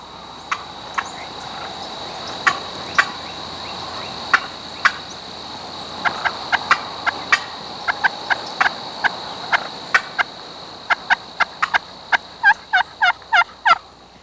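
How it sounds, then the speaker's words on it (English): Wild turkey hens cutting in spring woods, a run of sharp, excited clucks that starts sparse and quickens into rapid bursts near the end, loud and fairly close over a faint insect background. "Cutting just is some real sharp or aggressive clucking."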